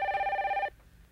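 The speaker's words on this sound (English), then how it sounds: "Answer the phone." A telephone bell rings once in a short electronic trill, close and clear, stopping abruptly after under a second in a 1990s action film scene.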